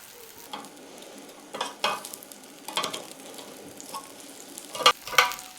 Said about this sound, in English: I've got a griddle pan heating up. I can get those in it and get them grilled on both sides